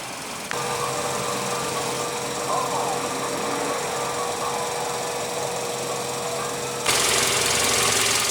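A 2016 Kia Optima's 2.4 liter gasoline direct-injection four-cylinder engine runs steadily with a constant hum and faint ticking, briefly rising louder near the end, with no talk over it.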